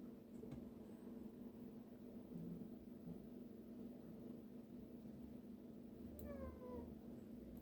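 A pet cat gives a single short meow near the end, faint against a steady low hum in a quiet indoor room.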